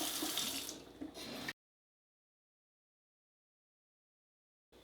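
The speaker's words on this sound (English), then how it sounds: "Now I'm just going to add cold water." Cold water runs from a tap into a bottle in a steady rush for about a second and a half, then stops abruptly, leaving silence.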